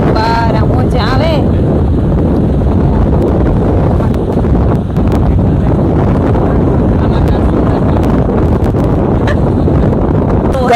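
Strong wind buffets the microphone at a seashore, a loud, continuous roaring rush with gusty surges throughout, while voices talk briefly underneath.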